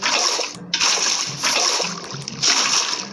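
Water splashes in a Minecraft game in repeated bursts of bright, hissing splash noise broken by short gaps, loud and close, with no talk.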